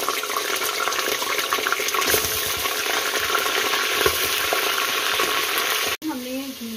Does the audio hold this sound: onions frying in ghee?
yes